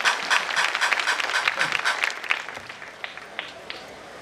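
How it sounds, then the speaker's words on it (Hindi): Audience applause at an anniversary celebration event, starting as a loud burst of many hands and thinning over a few seconds to scattered claps as it dies away. "भरपूर तालियां एक बार"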